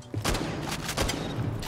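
Shotgun hipfire in Rainbow Six Siege: several loud, sharp blasts in quick succession, close and punchy, with no talk.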